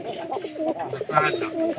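Young pigeon chicks coo in a loose run of soft, wavering calls, close and fairly steady throughout, with some background noise underneath.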